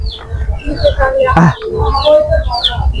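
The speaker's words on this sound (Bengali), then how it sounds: "কবুতর খাটি দিচ্ছে" Pigeons coo in soft, repeated throaty calls, close by, mixed with other bird chirps and a moment of quiet talk.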